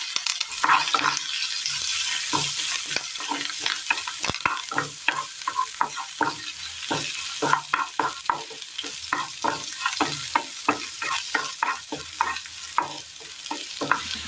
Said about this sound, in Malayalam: ഉഴുന്നൊന്ന് ചുവന്ന് വരുന്ന സമയം നമുക്ക് ഇതിനകത്തേക്ക് 2 പഴുത്ത മുളക് കട്ട് ചെയ്തതും കറിവേപ്പിലയും ചെറിയുള്ളി അരിഞ്ഞതും 2 വെളുത്തുള്ളി കട്ട് ചെയ്തതും കൂടി ഇട്ട് കൊടുക്കാം.